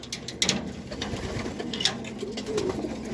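Pigeons in a loft coo softly in low, throaty murmurs, faint and intermittent, with a few brief scuffs and wing flutters nearby and no voices.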